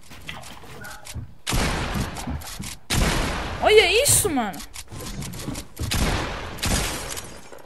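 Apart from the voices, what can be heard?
gunshots from Fortnite video game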